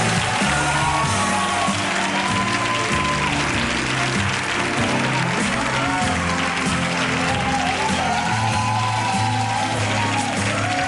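A 2004 Spanish TV studio audience gives a strong, sustained round of applause to welcome a guest, a dense, even wash of clapping lasting throughout, with band music playing underneath.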